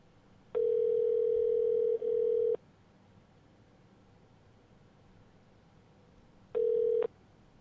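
A telephone gives two long steady tones and then a short third one, each separated by quiet line hiss, all heard alone with no voices.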